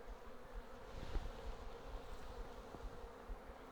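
Honey bees buzz steadily around an opened beehive, a soft continuous swarm hum with a few closer bees droning past, fairly faint and with no talking.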